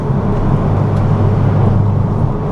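Porsche Cayman fitted with a 3.8L 911 engine and upgraded induction, its steady, loud, droning intake and engine noise filling the cabin while driving normally, with a constant low rumble throughout.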